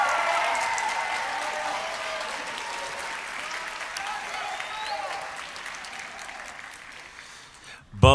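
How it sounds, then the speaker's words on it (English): An audience at a high school spring band concert gives a senior sustained applause, a dense wash of clapping that slowly fades before a sudden loud burst at the very end. "Please give her a huge round of applause."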